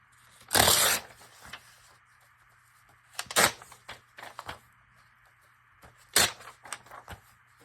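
Sheets of music paper are torn from a vintage music book in three sharp, loud rips, close up, with smaller crinkling tears between them and quiet pauses in between.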